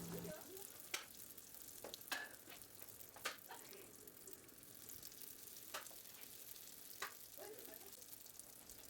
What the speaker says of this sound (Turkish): Hemen kızgın yağın içerisine atacağım.